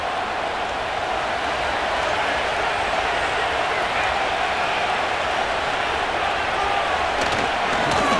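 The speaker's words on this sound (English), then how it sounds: "they're going to hear it from this crowd" Stadium crowd noise in the Madden NFL 25 football video game, Broncos versus Bengals: a steady, loud, dense roar of a large crowd that holds level throughout without breaks.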